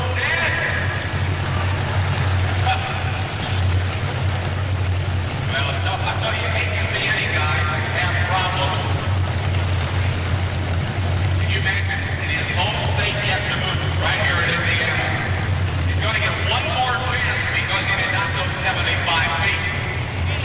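Pulling vehicle at a 1988 indoor tractor pull in Indianapolis, its engine roaring loud and continuous under crowd noise, the low drone wavering unevenly as if stumbling and cutting out.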